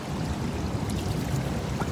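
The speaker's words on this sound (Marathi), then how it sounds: "त्या झऱ्याच्या इथे आपण पाणी घेऊया आणि आपले केस धुऊया आणि पाणी थोडं पिऊया सुद्धा. वाहतं पाणी आहे एकदम" Freshwater spring stream flowing steadily close by: a continuous, even rush and trickle of running water with no pauses, and no voices.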